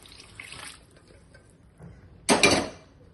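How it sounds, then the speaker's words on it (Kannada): Water is poured into a ridge gourd curry cooking in a pan, a short splashing burst near the end after a faint earlier clink and quiet pauses. "ಸ್ವಲ್ಪ ನೀರು ಹಾಕೋಣ."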